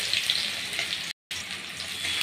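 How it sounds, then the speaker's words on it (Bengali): Chopped onion fries in oil for a Bengali-style eggplant chutney, giving a steady broadband sizzle that cuts to silence for a moment partway through and then resumes. No voices are heard. "পেঁয়াজটাকে ভেজে নেব।"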